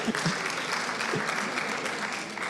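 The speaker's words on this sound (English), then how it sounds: "Clap for me now." Steady, sustained audience applause from a crowd at a professional development talk, filling the whole stretch with a dense, even roar of clapping.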